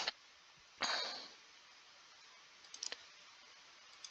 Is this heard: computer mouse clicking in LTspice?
yes